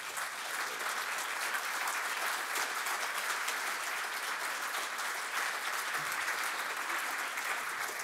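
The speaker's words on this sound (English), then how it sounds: "Just clap." Steady, dense applause from a conference audience fills the whole stretch, a continuous wash of many hands clapping at a constant level with no voices over it.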